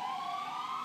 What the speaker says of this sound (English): Ambulance just drove by here.